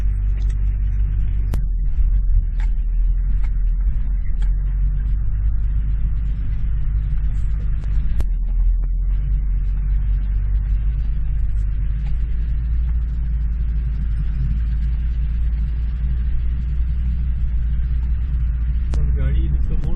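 Car driving along a rough road up to a mountain village, a constant low engine rumble and road noise lasting the whole stretch, with occasional knocks and people talking over it.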